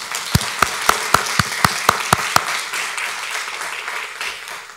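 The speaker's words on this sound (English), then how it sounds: "let's give him a round of applause" Applause at a First Amendment memorial lecture, opening with about eight sharp, evenly spaced claps before fading into a soft, diffuse patter from a seated audience.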